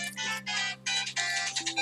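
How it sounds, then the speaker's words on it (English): A phone's alarm clock ringing: a short, bright electronic ring tone in repeated bursts over a steady low hum, fairly close and alone. "Oh, that was my alarm clock."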